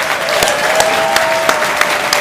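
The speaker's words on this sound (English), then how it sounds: "So let's give a big round of applause" Sustained audience applause at a Robinhood company event, dense clapping with a few sharper individual claps standing out and a faint tone humming underneath.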